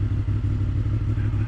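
A motorcycle engine drones steadily while riding, a low rumble under heavy wind buffeting, with no talk during the short stretch.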